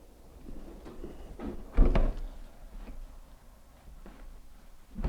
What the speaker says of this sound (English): the rollers to lift off the track, and I can get this door right out of the way